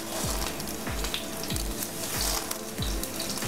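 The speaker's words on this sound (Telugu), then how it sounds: "వేసి ఫ్రై చేసుకున్నాం" Garlic, coriander seeds and fenugreek sizzle steadily in a hot pan, a close, continuous frying crackle with soft periodic scraping or stirring underneath.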